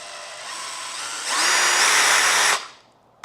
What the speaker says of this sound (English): Let's hear the motor running.